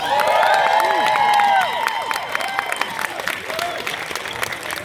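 Audience at a Rocketman film screening Q&A clapping and cheering as a crowd, loud at first with whoops and shouts over the applause, then settling into steadier clapping that fades slightly.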